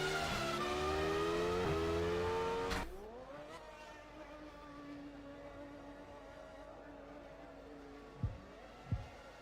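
A Formula 1 car engine screams in the racing game F1 Challenge 99-02 at the 2001 Brazilian Grand Prix as the car leaves the pits. A loud, close, high-revving whine drops to a quieter steady drone, then two short thumps follow near the end.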